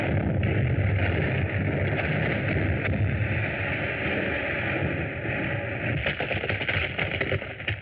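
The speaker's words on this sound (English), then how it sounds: "That sounded like an underground explosion." A deep, continuous rumbling underground explosion effect from an old-time radio serial rolls on at high volume, with a rough roaring texture that swells slightly toward the end.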